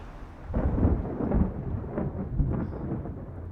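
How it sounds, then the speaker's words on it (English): Thunder rumbles in a cyberpunk horror video game, deep rolling booms over a bed of steady rain that carry on at moderate volume. "A storm is coming. I really love those sounds"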